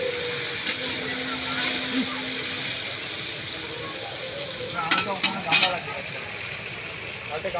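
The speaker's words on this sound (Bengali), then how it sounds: "আলুটা ভালো করে ভেজে নেওয়া হচ্ছে" Potatoes frying in oil at an outdoor picnic cookout give a steady low sizzle, with occasional scraping and clattering stirs and voices talking nearby.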